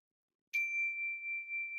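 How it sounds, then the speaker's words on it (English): A meditation bell struck once after a moment of silence, a clear bright ding that rings on in a pure, steady sustained tone, close and alone. "maybe we can just begin with a bell"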